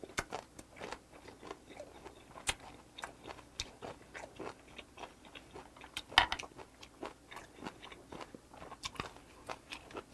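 Chewy fermented skate with bones is eaten together with a piece of kimchi stem in a close-up mukbang. Wet, crunchy chewing and crisp bone crunches repeat irregularly at close range, with no talking.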